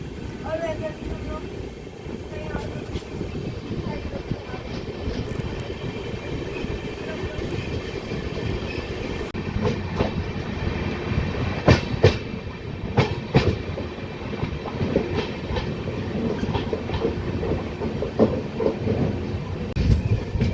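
A train departing Choda railway station rumbles steadily along the tracks with rattling carriages and occasional sharp clanks, heard from on board over a continuous low roar.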